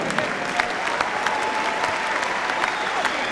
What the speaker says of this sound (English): both these boys deserve a big round of applause for an absolutely tremendous contest